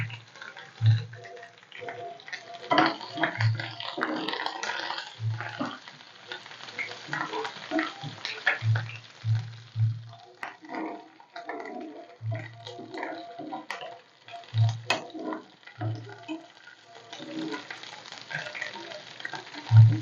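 Snails fry in a pan with curry leaves, giving a steady crackling sizzle throughout with occasional louder pops and stirring scrapes, close and moderately loud, with no talking.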